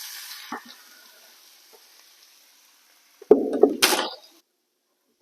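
Tomatoes hit a hot frying pan while cooking a Chinese dish, a sudden burst of sizzling lasting about a second before dying away, after a quiet stretch with faint kitchen noises.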